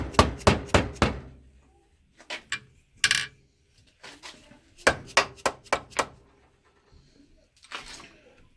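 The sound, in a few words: hammer tapping on motorcycle engine case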